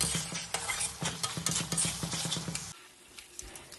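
Ground spices and chili powder stir-fried in hot oil for mutton kosa, with a spatula scraping and clacking rhythmically against the pan over a soft sizzle before the stirring stops.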